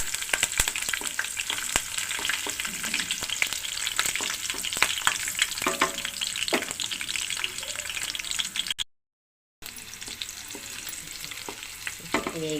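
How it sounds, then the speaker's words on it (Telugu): Whole spices, green chilies and curry leaves fry in hot oil, producing a dense, crackling sizzle with frequent spatula scrapes, loud and near, briefly cut to silence before the frying resumes, with no talking. "మసాలా దినుసులు వేసి వేగించుకుందాం. పచ్చిమిరపకాయ, కరివేపాకు కూడా వేసుకుందాం."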